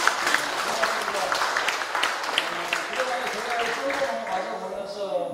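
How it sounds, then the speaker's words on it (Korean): Audience clapping at a Korean Taego Order Buddhist eye-opening ceremony for a wooden Shakyamuni Buddha statue, a steady wash of many hands with a voice speaking over it throughout. "우선 고맙고 큰 박수 한번"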